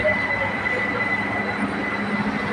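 A BTS Silom Line Skytrain rolls through Saphan Taksin station in Bangkok with a loud, continuous rumble of wheels and motors and a faint high squeal, close by and unbroken throughout.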